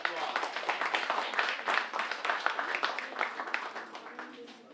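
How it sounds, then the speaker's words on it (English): An audience at a speaking competition claps for the contestants, a brisk pattering of many hands that rises near and steady, then gradually thins and softens. "Let's give a round of"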